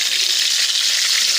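Dried bay leaves sizzle in the hot oil left over from frying fish in a kadai, a steady, loud, even crackle that fills the short moment with no break.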